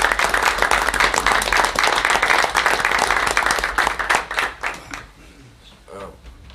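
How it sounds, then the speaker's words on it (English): Veterans being honored at a memorial park presentation draw dense, loud applause from a seated crowd, which thins and fades out over the last couple of seconds. "I think we need to give them applause"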